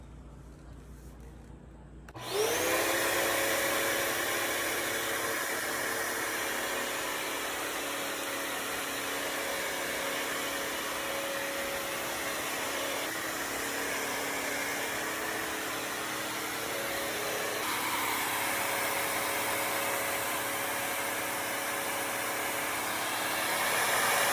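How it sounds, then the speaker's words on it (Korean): Corded steam mop working across a home floor, a steady whining motor hum with a faint hiss that starts abruptly after a quiet moment and runs on evenly, no talking. "코드 있는 거 스팀 청소기 샀고 이거 지금 밀 거고"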